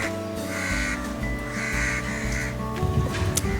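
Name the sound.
crows cawing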